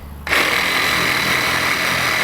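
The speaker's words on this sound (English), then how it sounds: "cutting plastic with sawzalls for about 2 years now together" A Milwaukee Sawzall reciprocating saw cuts through plastic, starting abruptly after a brief quiet moment and then running loud and steady with a harsh, buzzing whine right up close.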